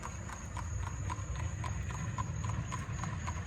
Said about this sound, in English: I don't know if y'all can hear the clip clop of the horse.